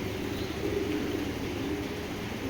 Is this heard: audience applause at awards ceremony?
no